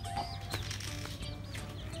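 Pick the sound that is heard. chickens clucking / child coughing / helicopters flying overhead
chickens clucking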